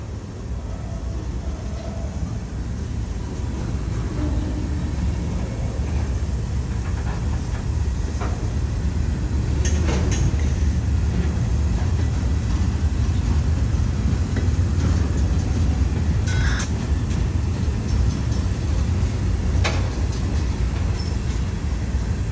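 A westbound CSX mixed freight train with gondolas carrying scrap metal rolls past on a mainline track, a steady loud rumble of wheels and cars throughout with occasional sharper metallic clanks and hissing, no voices.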